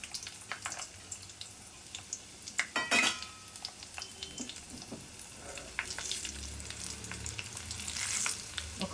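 A generous amount of oil crackles and sizzles as tempering is made for a preserved tomato pickle, with close, uneven popping, occasional utensil clinks and stirring, and no talk.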